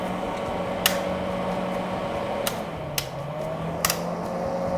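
A solder smoke fume extractor fan runs on its first setting, giving a steady, fairly loud whirring drone with a constant low hum, broken by a few faint brief clicks.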